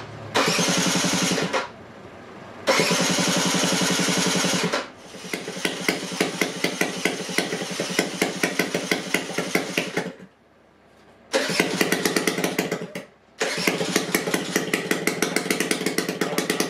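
A Piaggio Zip 50 scooter engine with no exhaust fitted cranks in short bursts, catches and runs with a rapid, rattling idle, cutting out briefly before restarting and running again.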